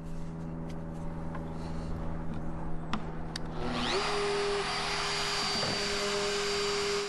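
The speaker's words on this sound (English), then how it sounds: "I'm going to shape it with a router" A handheld wood router shaping a timber piece for a garden pergola spins up around midway, its loud high whine rising over a steady droning hum and holding constant to the end, with no talk.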